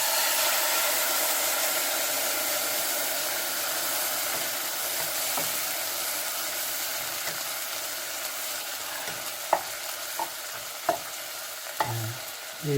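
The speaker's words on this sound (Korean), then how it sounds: "물을 조금만 부어보도록 하겠습니다." Water poured into a hot pan of sautéed dried pollack for soup bursts into a strong, steady sizzle and hiss that slowly eases, with a few soft clinks of stirring near the end.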